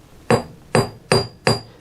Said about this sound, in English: Hammer drops in the same place